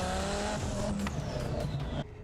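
A pre-LP twin-turbo Lamborghini Gallardo roars steadily at close range, its engine note strong and sustained before dropping off abruptly near the end, with no voices over it.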